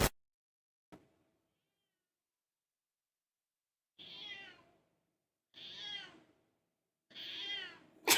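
A house cat meows three times in a row, each call drawn out and fairly close, separated by quiet pauses, with a faint thump early on and no talking.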